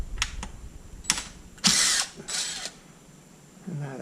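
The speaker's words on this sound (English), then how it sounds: "I like to pull these screws here" A power drill pulls screws out of an Arrma Limitless RC car in short whirring bursts, close by, with ratcheting clicks and quiet pauses between spins.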